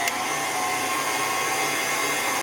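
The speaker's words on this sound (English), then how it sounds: "you're going to keep the mixer running" An electric mixer mixing lemon zest into cake batter, a loud continuous whirring drone that holds steady, then cuts off at the end.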